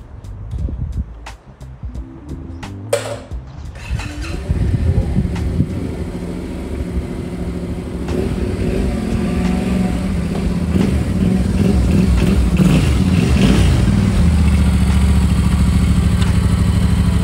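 A Yamaha Tenere 700 motorcycle is wheeled out and started after seven months of storage. Clicks and clatter come first, then the engine catches into a steady, loud, close idle that holds to the end.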